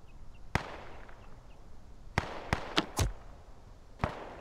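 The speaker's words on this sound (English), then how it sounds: "Stop shooting at me." Gunfire in a duck-themed open-world survival game, with five or six sharp, loud shots spaced irregularly over a few seconds against a quiet background.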